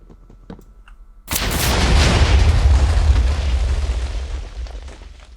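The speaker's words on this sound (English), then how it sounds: "this is like 100 TNT minecarts. So everything's about to explode." A huge chain of TNT minecarts detonating at once in Minecraft: after a second of quiet, a loud sustained rumbling blast erupts and roars on for several seconds, slowly thinning out as it fades.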